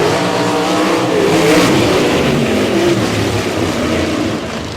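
Sprint cars from a heat race at Humboldt Speedway roar as they accelerate together, a loud, continuous, dense engine howl with shifting pitch and no pauses.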